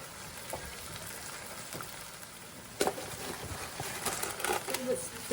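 Rice vermicelli being stir-fried with bean sprouts in a pan, a steady soft sizzle and scrape running throughout, with a sharper clatter of stirring and added ingredients near the middle and towards the end.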